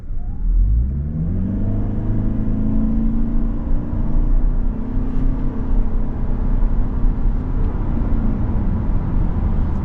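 A 2025 Toyota Camry XLE AWD in sport mode accelerates hard from low speed, its engine note climbing steadily and holding a loud, continuous rumble through a shift, heard from inside the cabin.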